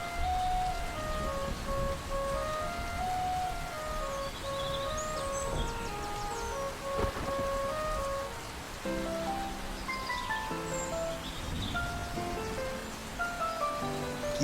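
Cartoon rain and storm noise: a steady wash of rainfall runs throughout with a jingling melodic tune layered over it, no voices.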